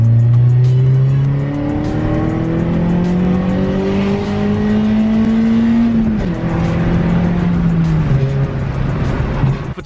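A Peugeot 106 GTI engine revs hard at full throttle and climbs through the gears, loud and close, the pitch rising and dropping with each shift.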